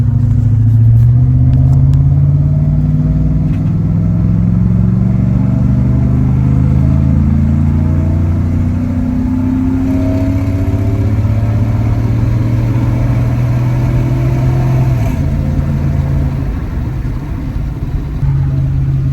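A loud, deep V8 roar builds steadily as a 2002 GMC Sierra 5.3L with headers and no catalytic converters accelerates, its exhaust note climbing in pitch through several gear changes.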